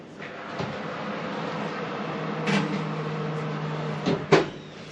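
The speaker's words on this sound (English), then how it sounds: "let's put this back in the oven" An oven door closes as a breakfast tray slides back inside, a few dull knocks and rattles ending in a firm thud, near and moderately loud with no talk.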